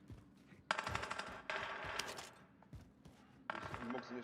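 A decoy grenade in Warzone imitating gunfire, throwing out several loud bursts of rapid fake shots separated by short pauses, with players talking quietly underneath.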